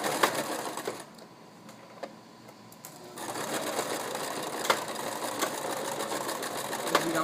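A sewing machine stitches inverted box pleats in two fabrics, running in a steady, fast mechanical whir close by, pausing briefly near the start before resuming at full speed.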